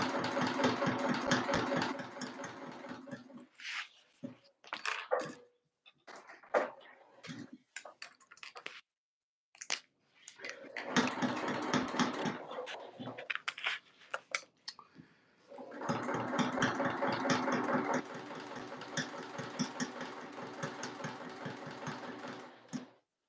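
A sewing machine stitching a tote bag runs in long bursts with short pauses between, a steady mechanical whir and rapid needle ticking, close and clear.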